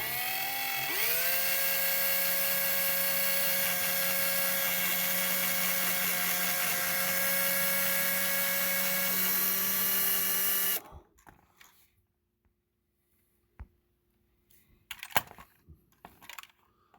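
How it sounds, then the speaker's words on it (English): A power drill bores a pilot hole into a plastic Corgi Ford Gran Torino toy car. It whines steadily and loudly for about ten seconds, then stops, leaving a few faint clicks and handling knocks. "start with a smaller hole for a pilot hole without trying to screw the plastic up on it"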